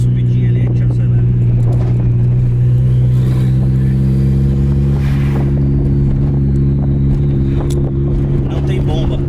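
A turbocharged Chevrolet Corsa engine drones loudly from inside the car under load, with a steady low rumble and faint whooshing on top, and no clear rise in pitch.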